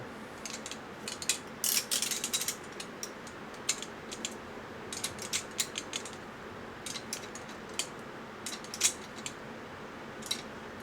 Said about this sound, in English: I'm going to use a snap-on flex drive with a torque adapter